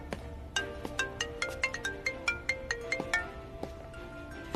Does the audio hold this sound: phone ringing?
yes